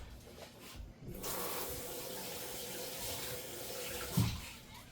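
Water runs steadily from a kitchen sink tap while soup is being made, a continuous broadband splashing stream heard close by, with a brief louder clunk near the end.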